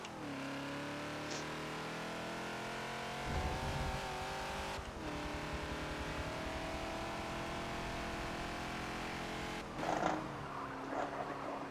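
A Ford Falcon XB at Sebring in the Forza racing game, its engine droning steadily through braking and turn-in, with pitch shifts as it downshifts and a couple of brief bumps or tire scrubs.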